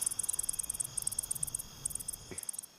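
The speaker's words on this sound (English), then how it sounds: "when they rub them back and forth, it makes that long, you know, clicky sound that is characteristic of katydids and warm summer nights" A katydid rubs its wings together in a warm summer-night chorus, making rapid, high, buzzy clicking pulses in repeated short bursts. One sharper click stands out near the end.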